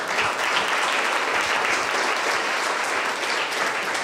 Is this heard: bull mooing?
no